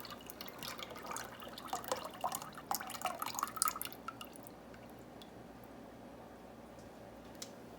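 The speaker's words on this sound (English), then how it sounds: "So we add the water lye into the oil fat." Lye water solution is poured into melted oil and fat for homemade soap, a wet trickling and dripping pour with small splashes that fades out, leaving near silence.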